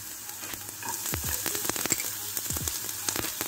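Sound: garlic sizzling as it is added to a hot pot

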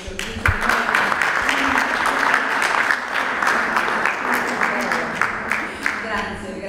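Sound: audience applause opening the event

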